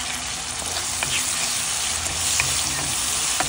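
Garlic, onion and tomato sautéing in a pan, a loud, close, steady sizzle with crackling pops and occasional stirring scrapes, no talk.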